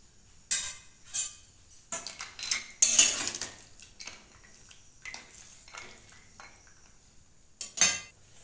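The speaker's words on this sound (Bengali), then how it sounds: "এতে এখন আমি বড়িগুলো দিয়ে দিচ্ছি।" Bori lentil dumplings are dropped into a potato, brinjal and broad bean curry in a pan, giving a series of sharp metallic clinks and scrapes of a spoon against the cookware, spaced irregularly and heard up close.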